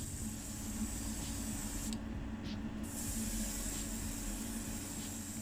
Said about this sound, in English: Coming out a little bit slow on the air gun actually, so, or the airbrush.